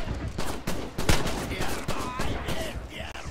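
Gunfire in the WWII shooter Red Orchestra 2: several sharp rifle and automatic shots crack in quick succession among battlefield noise, moderately loud, with a voice talking at times.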